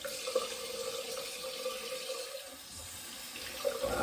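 A tap runs steadily into a sink while a razor fitted with Sputnik blades is rinsed during a morning shave, a close, continuous splashing flow with a few small clinks.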